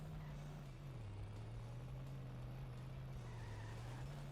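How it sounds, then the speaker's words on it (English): A garbage truck driving in The Simpsons Hit and Run, with a steady low engine drone that rises and dips slightly in pitch, continuous and moderately loud throughout. "Oh no, that's a nasty garbage truck right there."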